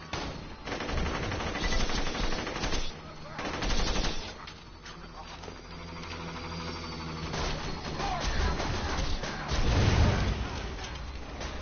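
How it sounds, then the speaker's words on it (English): An E-Tech gun firing in a video game, heard as repeated loud bursts of rapid shots with brief pauses between volleys, mixed with other game noise. "this is an E-Tech gun"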